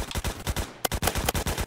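Rapid bursts of pistol fire in a video game shooter, a quick string of sharp cracks in close succession over under two seconds, loud and alone.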